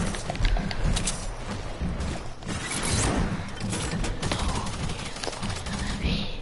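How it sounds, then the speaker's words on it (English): Tactical SMG fire in a multiplayer shooter game, a dense, continuous rattle of rapid gunfire with mechanical clatter running throughout, fairly loud and steady with no clear breaks. "Oh yeah, tactical SMG."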